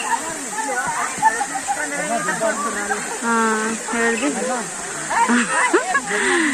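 Steady rushing hiss of the Mallela Theertham waterfall fills the background while people talk loudly over it throughout.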